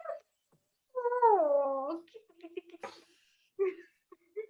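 A pet cat meows in a single drawn-out, wavering call lasting about a second, close and fairly loud, at an informal open mic Christmas party, followed by brief voices and room chatter.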